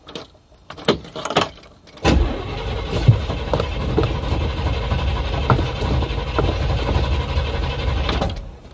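An old car with a temperamental choke struggles through a few uneven cranking bursts, then catches and settles into a steady, rough running engine close by, with a faint jingle of keys.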